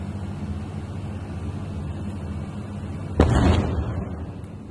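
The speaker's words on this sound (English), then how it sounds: "This, I understand, shows a missile launch for Bahrain." Missile launch in Bahrain: a sudden loud roaring blast bursts out of a steady low background rumble about three seconds in, then slowly fades. No one speaks.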